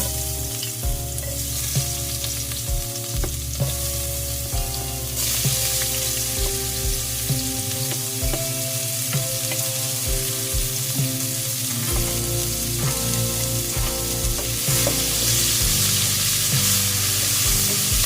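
Onion sautéing in a pan of reduced oil for fish escabeche sauce, a dense continuous sizzle and crackle with scattered stirring clicks and pops, close and steady throughout with no talk.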